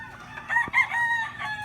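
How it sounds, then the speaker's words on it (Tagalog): Fighting roosters on a family farm crow and cluck close by, a clear crowing call rising over softer clucks in a short burst. "Yan ang mga manok natin na panabong."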